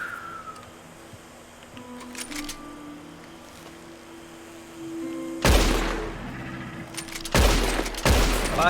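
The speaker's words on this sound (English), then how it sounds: "Takes 3 shots with this gun, anyway." Gunshots ring out in Red Dead Online, a few loud sharp cracks with long ringing tails near the end, after a quieter stretch of faint ambient game sounds.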